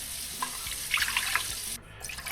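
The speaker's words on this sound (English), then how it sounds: "we're just gonna add 2 cups of water" Water runs steadily from a tap into a container, about two cups, a continuous splashing hiss close by that dips briefly near the end.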